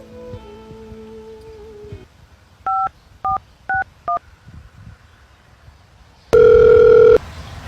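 Four short touch-tone beeps of a telephone number being dialed, evenly spaced, then a loud steady ringing tone, heard close over quiet room noise with a faint voice underneath.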